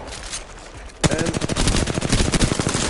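Rapid automatic gunfire from a shooting video game during headshot practice bursts in suddenly after a quiet stretch, a loud, continuous stream of rhythmic shots that keeps going to the end.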